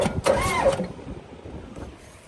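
An engine is cranked over briefly, giving a short, loud whirring burst with a rising mechanical whine that stops within a second, followed by faint scraping and handling noise.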